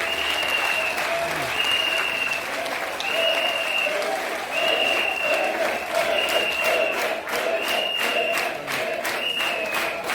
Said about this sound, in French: Éric Nyamaka a demandé 1 minute, pas de silence, mais d'acclamation à la mémoire du président Aimé Arikona Bédié